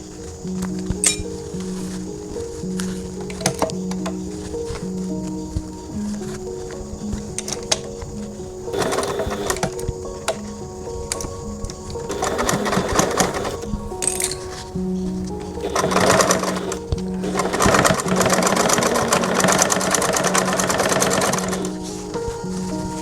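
Sewing machine stitching forward and backward on fabric while making an upcycled peg bucket, running in steady bursts with short pauses and faint clinks between passes, fairly close and clear.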